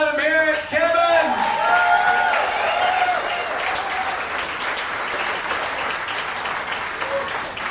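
Crowd in Sarasota applauds and cheers to welcome comedian Kevin Newell, a loud sustained burst of clapping with whoops and an announcer's voice over the start, holding steady for several seconds.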